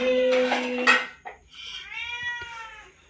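A cat meows in a home kitchen, a loud drawn-out cry followed by a softer rising-and-falling meow, close by, with a brief clink of dishes between the calls and no speech.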